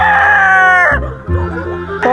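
A gamefowl broodcock crows loudly and close by, one long strained cock-a-doodle call that breaks off, followed by a short low throaty sound.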